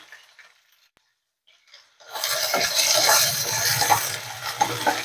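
Soaked chana dal, tomato and potato drop into hot oil in a pan for a spinach masala curry. After a near-silent pause, a steady close sizzle suddenly erupts and keeps crackling to the end.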